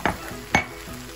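Tomatoes and onions with seasonings stir in a sizzling pan, the steady frying hiss broken by two distinct scraping spoon strokes, close by and without talk.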